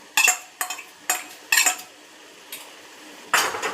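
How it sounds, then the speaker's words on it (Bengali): A spoon stirs yogurt into palak paneer gravy in a pan, giving about half a dozen separate metallic clinks and scrapes at an uneven pace, close up against an otherwise quiet kitchen. "দিয়ে এটা আবার ভালো করে নাড়াচাড়া করে নেব।"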